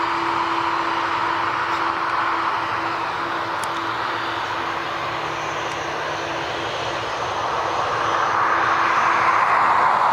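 Ryanair airliner bound for London Luton taking off at Dublin Airport, a broad, steady jet roar heard from a distance that swells slightly toward the end, with no voices.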